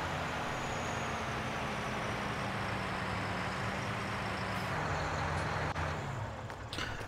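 A farm machine under load in Farming Simulator 19, a steady droning whir like an overheating car fan racing, constant and fairly loud with a low engine hum beneath, no talk.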